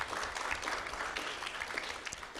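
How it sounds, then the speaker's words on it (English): Steady audience applause fills a hall at a company's annual general meeting, many hands clapping continuously and evenly at a moderate distance with no voices over it. "I think this deserves a round of applause."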